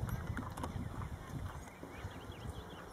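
Horse hooves clip-clopping at a novice jumping rally, a steady stream of muffled, closely spaced thuds near the microphone with a faint background tone and no clear talk.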